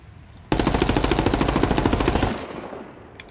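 Automatic gunfire in Ghost Recon Wildlands, a loud rapid burst of evenly spaced shots lasting about two seconds, then fading echo.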